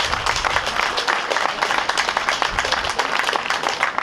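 A crowd at Terrace Bay's 75th anniversary opening ceremonies applauds outdoors, a continuous, fairly loud round of many hands clapping at a quick, even pace with no talk.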